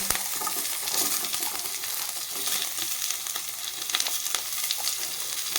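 Carrots hitting a hot frying pan with curry leaves already in, a continuous close crackling sizzle with light stirring scrapes and small clinks.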